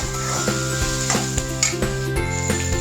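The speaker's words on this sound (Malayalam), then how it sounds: "സവോള ഇനി ഗോൾഡൻ നിറമാകുന്നിടം വരെ നമ്മളിങ്ങനെ വഴറ്റി എടുക്കുക." Onions sauté in a pan for Mughlai chicken, giving a steady close sizzle with a constant underlying hum and regular light scraping taps from stirring.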